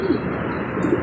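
Young bird softly cooing, dove-like low coos at the start and again near the end over a quiet background.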